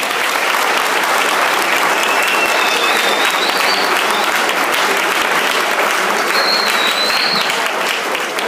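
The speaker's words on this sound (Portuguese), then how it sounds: "eu queria mais uma salva de palmas para ele aqui, por favor" Sustained, loud applause from a lecture audience for a professor at a physical education week opening talk, dense and steady throughout, with a few faint whistles rising over the clapping.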